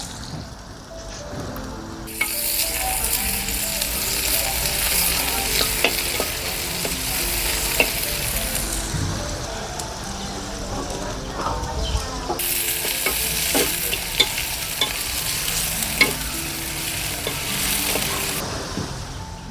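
Shallots, green chillies and tomato fry in hot oil in a pan, a loud continuous sizzle with stirring scrapes and brief pauses as ingredients go in.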